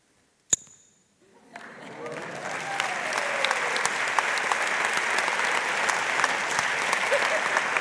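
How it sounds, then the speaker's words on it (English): After a sharp metallic click, a TEDx audience swells into steady, dense applause that builds over a couple of seconds and keeps going strong to the end, with some cheering mixed in. "Big round of applause for Elisa!"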